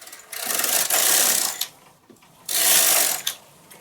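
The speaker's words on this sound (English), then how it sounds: "Thread up with brown, and I'm going to knit 2 rows." A knitting machine carriage knits two rows of brown yarn, two long loud whooshing, clattering passes, each ending in a sharp click, close up with no talk.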